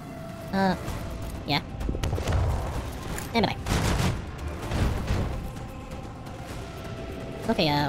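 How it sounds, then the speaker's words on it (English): Torpedo salvo in ship combat in Warhammer 40k Rogue Trader, a dense booming barrage of launches and blasts with whooshing sweeps, loud and continuous, while someone talks over it. "spam out torpedoes"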